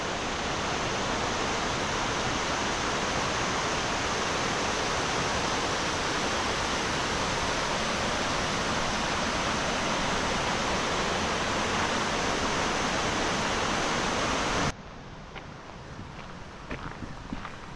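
Waterfall in the Tregargus valley, Cornwall, a loud, steady rush of falling water heard up close for most of the stretch, then cutting out suddenly to quieter outdoor ambience with a few light footsteps.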